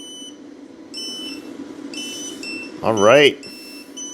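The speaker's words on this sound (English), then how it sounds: "and I'm hearing that one beep" Electronic beeping from a DIY solar battery setup, several short high tones repeating at regular intervals, with a brief spoken remark cutting in over them partway through.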